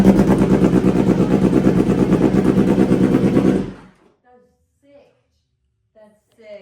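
A motorcycle with a full titanium exhaust system revs loudly and close for several seconds, its rough pulsing roar cutting off sharply, followed by near silence with faint scattered sounds.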